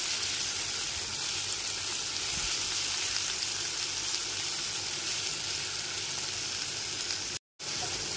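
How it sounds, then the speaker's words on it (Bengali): Chopped tomato and ginger paste fry in a pan for a light Bengali fish curry with potato and pointed gourd, giving a soft, even sizzling hiss that runs steadily with little stirring noise and a brief dropout near the end. "টমেটো কুচিটাকে আদা বাটার সাথে নাড়াচাড়া করে নেব"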